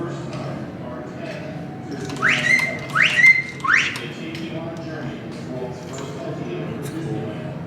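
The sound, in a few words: animatronic bird whistling in the Enchanted Tiki Room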